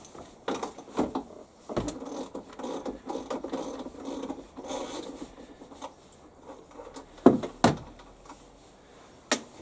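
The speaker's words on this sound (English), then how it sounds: "So you can use a 15mm socket or a 15mm spanner and undo in the conventional manner, anti-clockwise, the two wheel nuts" Ratcheting and scraping of a 15mm socket undoing the two wheel nuts on a lawn mower's rear axle, irregular clicking and rubbing bursts with a few sharper knocks, close and fairly quiet, no talk.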